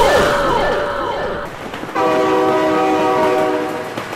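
A train in a vehicle crash video game blares its horn loudly and steadily, with wavering swoops at first, then a sustained multi-tone blast over rumbling rail noise as it passes close by.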